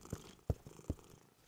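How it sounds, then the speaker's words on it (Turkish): A cartoon cat purrs softly in a quiet room, with a few low rhythmic thumps of breath spaced about every third of a second, faint and close, no voices over it. "Annesi ve Caillou bir miyavlama sesi duydu."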